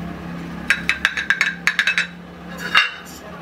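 Metal idli plates clink and clatter while being oiled and handled, a quick run of about ten bright, close taps over two seconds, then one louder clank after a pause, with no talking.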